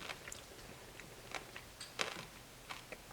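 Someone chewing crunchy fruit, a quiet string of close, irregular crisp crunches and clicks with small pauses between them.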